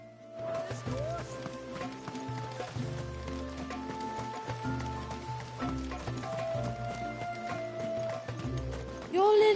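Rhythmic hoofbeats of a galloping horse in Final Fantasy XVI clatter over game music, with a brief whinny-like tone near the end.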